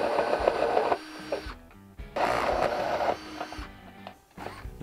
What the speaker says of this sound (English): now the slightly worrying part is cutting a large hole in the front of the mask